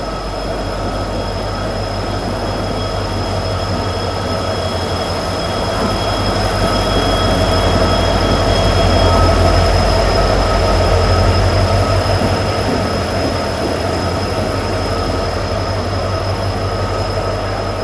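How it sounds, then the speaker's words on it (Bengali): A train pulling into Howrah station gives a loud, sustained low rumble of rolling wheels and carriages, swelling in the middle, with high steady whining tones above it. "প্রায় 3 ঘন্টার লেটে হাওড়া স্টেশনে ট্রেন"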